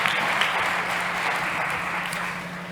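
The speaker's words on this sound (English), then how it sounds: "Big applause for Jorge." Steady audience applause follows a pitch at a health and wellbeing startup competition, a dense even wash of clapping with no talk over it.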